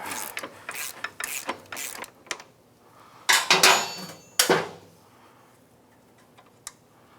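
A ratchet wrench clicks in quick bursts while working on a Can-Am Outlander ATV axle, with several rapid pawl runs, a couple of louder, longer ratcheting sweeps near the middle, then a single faint click.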